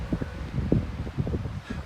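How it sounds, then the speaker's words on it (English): Strong wind gusting across the Columbia River Gorge near Mount Hood, a low rumbling buffet on the microphone with uneven bursts, close and fairly loud, alone without talk. "Super windy up here"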